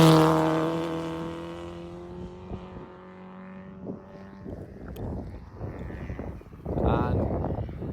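Race car on a track, starting with a loud, high-pitched whine that fades as it pulls away. Further engine bursts and a rising surge follow near the end, with someone talking over the middle stretch.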